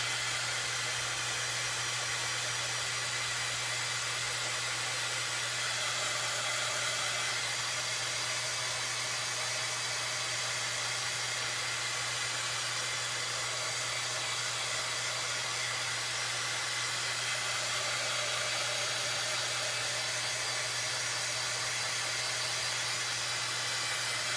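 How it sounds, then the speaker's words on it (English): A heat tool blows a steady, loud hiss of hot air as it dries Waverly chalk paint on a tiered tray box, running continuously for the whole stretch with no talking. "you don't ever want to hold your heat tool in one place because you can make the paint bubble"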